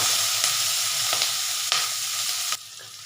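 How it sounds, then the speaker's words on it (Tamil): Capsicum masala sautés in a pan with cloves and cinnamon sticks, giving a steady, dense sizzle broken by a few sharp scraping stirs. "ரெண்டு கிராம்பு, 2 பட்டை இதையும் இதோட சேர்த்து நல்லா வதக்கிக்கலாம்."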